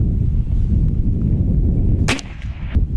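.50 caliber PCP big-bore air rifle firing at a target, a single sharp loud crack near the end over outdoor background noise, followed by fainter clicks.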